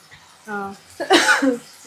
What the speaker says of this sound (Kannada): ಕೆಮ್ಮು ಜಾಸ್ತಿ ಆಗ್ತಾ ಇದೆ.